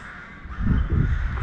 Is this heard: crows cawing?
yes